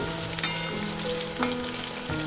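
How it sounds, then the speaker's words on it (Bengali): A soft, even sizzle of a ground ginger, green chili and tomato paste frying in a pan with potatoes, a few faint clinks and a low hum underneath. "মিক্সিতে বেটে নেওয়া আদা, কাঁচা লঙ্কা এবং টমেটোর এই পেস্টটা দিয়ে দিলাম"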